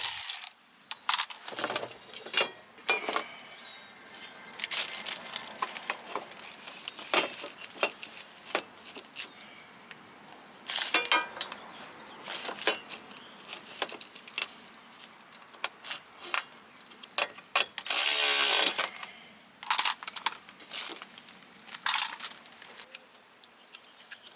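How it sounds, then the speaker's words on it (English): Headlight bracket being moved between Honda Accord headlights: irregular close plastic clicks, taps and scrapes with short rattling bursts and quiet gaps, no talking. "Now we're transferring the headlight bracket from the original headlight to the new one."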